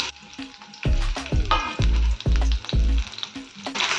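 Half a spoon of cumin seeds fry in hot oil for coconut chutney. The sizzle is close and crackling, broken by heavy stirring knocks and scrapes in an uneven rhythm, with no talk.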